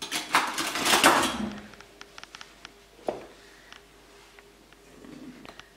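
A soft, grainy rush of sifted flour pouring into an OBERHOF Breth C-34 stand mixer bowl for about a second, followed by light taps and clinks of kitchenware.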